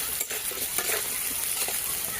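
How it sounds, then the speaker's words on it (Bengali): Potatoes frying in a pan for a vegetarian soybean curry give a steady, close sizzle, with faint stirring scrapes throughout and no talking. "আলুটা ভাজাতে বসিয়ে দিয়েছি"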